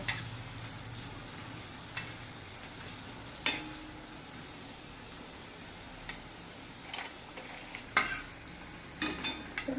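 Potato chakali frying in hot oil, giving a soft, steady sizzle with a few faint clicks and light stirring knocks scattered through. No one speaks.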